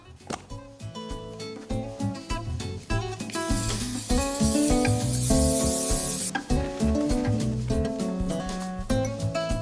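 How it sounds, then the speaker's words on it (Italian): Spray glue sprayed onto a picture frame during a DIY refinishing job, a bright hissing burst of several seconds set against background music with rhythmic plucked notes. "Oggi mi aiuto con una colla spray, faccio molto prima."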